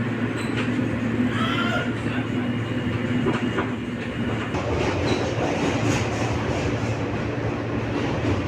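A train at Jamaica station in New York City makes a loud, steady rumble with rolling clickety-clack wheel noise throughout, close by and with no voices over it.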